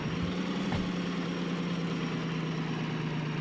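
A locomotive engine in the railway game Derail Valley drones steadily at a low, even pitch, holding constant and close for the whole stretch with no voices.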